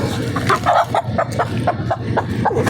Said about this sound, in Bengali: এটা কিন্তু একটা ব্রয়লার মুরগি।